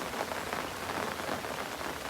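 Steady rain patters densely on a river's surface under dark clouds, a close, even hiss with fine droplet texture and no voices.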